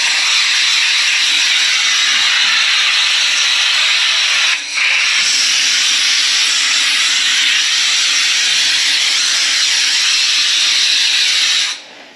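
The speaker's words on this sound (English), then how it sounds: "I'm going to take this air nozzle and I'm just going to go along just like this." Compressed air hisses steadily from a handheld air nozzle swept over brown powder-coated staircase parts, a loud continuous blast with one brief break partway through before cutting off at the end.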